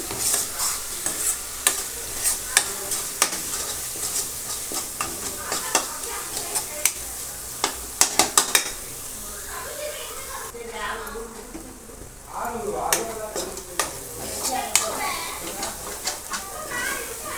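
Sizzling masala for egg kulambu frying in a pan with repeated sharp scraping stirs, close and rhythmic, a brief pause in the middle before the stirring resumes.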